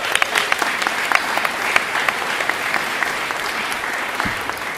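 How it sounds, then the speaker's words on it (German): Steady applause from an audience at a talk on human rights and the climate crisis, dense and continuous clapping throughout at fairly close range, with no speech over it. "Applaus für Fridays for Future."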